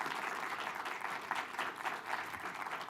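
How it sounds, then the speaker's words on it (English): Audience applause for panelists at a policy event, a short burst of steady clapping from a modest-sized crowd, somewhat distant and uniform throughout. "Please give my panelists a round of applause."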